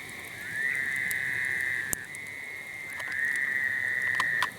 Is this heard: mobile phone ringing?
no